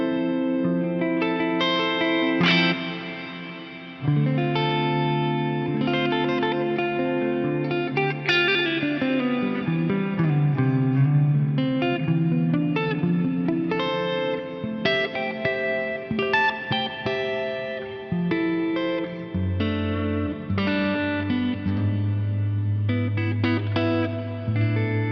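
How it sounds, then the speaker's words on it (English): Electric guitar through a Fractal FM3 with a York Minster Cathedral reverb, sustained chords and notes ringing into a long, lush wash that lingers between phrases, played alone without voices for about twenty-five seconds. "I've got the new York Minster Cathedral reverb set up."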